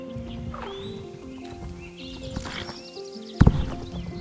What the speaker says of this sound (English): Honestly, the most honest horse I could ask for.